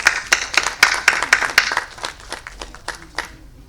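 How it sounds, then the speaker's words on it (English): A small audience welcomes a speaker at a business collaboration event with a round of applause, a few distinct pairs of hands clapping in an uneven rhythm that thins out toward the end. "Let us welcome him with a huge round of applause."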